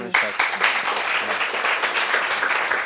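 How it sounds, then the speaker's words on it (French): An audience bursts into applause, a burst of clapping that starts abruptly and holds steady and fairly loud for a few seconds, with voices mixed in underneath. "ça s'applaudit."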